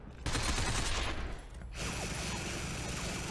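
Rapid automatic gunfire in the shooter game Binary Domain, a dense, loud crackling burst that thins briefly and then resumes as a steady stream of shots.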